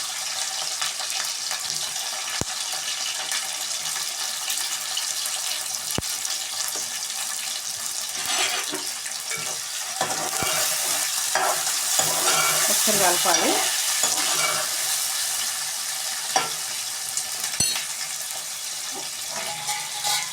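Onions and green chilies fry in oil with a steady sizzle, occasional stirring scrapes and clinks, continuous and close throughout.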